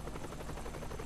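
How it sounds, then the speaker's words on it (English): A helicopter in the video game Saints Row: The Third gives off a continuous low rotor drone with a steady throbbing chop, faint and unbroken for about a second. "Dude, this helicopter is annoying."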